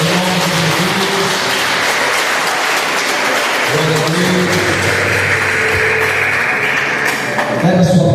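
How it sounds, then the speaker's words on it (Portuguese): A church congregation applauds in worship, a sustained wash of many clapping hands under a preacher's voice and sung or held musical tones. "Aplauda o Senhor, meus irmãos."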